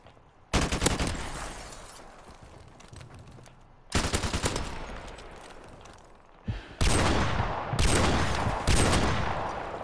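Rapid automatic gunfire from a video game match, loud and dense, coming in three long bursts separated by brief pauses, with no talking over it.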